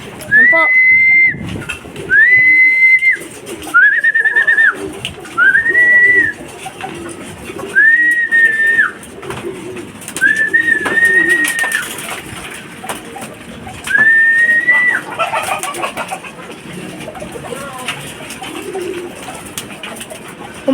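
Pigeons being fed at a loft coo in a run of clear, evenly spaced whistling calls, loud and close against rustling wingbeats and shuffling. Further activity fills the background as the birds crowd in.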